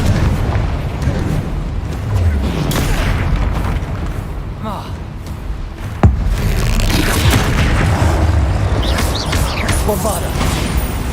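Confringo fire-spell blasts in Hogwarts Legacy combat, deep booming explosions over dense, loud battle noise, with one sharp impact standing out midway and voices shouting over the action.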